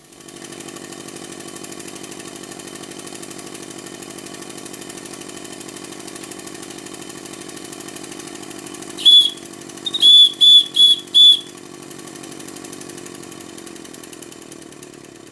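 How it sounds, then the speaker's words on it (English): A 5-inch gauge model steam locomotive of Stephenson's Rocket, its engine being run in, runs steadily with a continuous mechanical hum, broken near the end by several short, high-pitched whistle toots in quick succession. "As everything starts to bed in, the engine is running much more sweetly"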